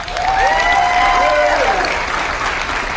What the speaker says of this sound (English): How about another massive round of applause for our Navy, everybody?